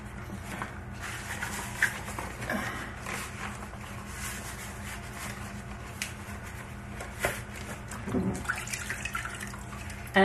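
Rust is scrubbed off a cast iron waffle iron in water, a steady wet brushing and swishing with splashes and clinks, close by, no talking.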